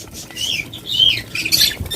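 Pigeons in a colony breeding setup flapping their wings, a close burst of fluttering wingbeats and rustling that rises and falls over two seconds, with a squeak or chirp mixed in.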